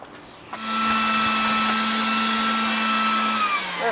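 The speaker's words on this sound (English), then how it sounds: "You have to get the vacuum cleaner." A motor whirs up after a brief quiet moment and keeps a steady, loud droning hum with a constant tone, a vacuum cleaner running nearby.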